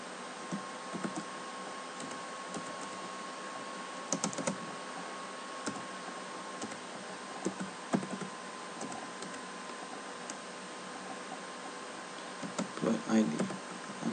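Typing on a computer keyboard during Java programming gives quiet, close key clicks in uneven bursts over a steady hum. A few denser flurries come near the end.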